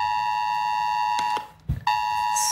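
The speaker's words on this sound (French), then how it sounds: "Sur leur téléphone portable, on retentit cette alarme assez stressante." Mobile phone emergency alert for a tsunami warning test along the Mediterranean coast of France, a loud steady electronic alarm tone that cuts out briefly amid a rustle, then resumes.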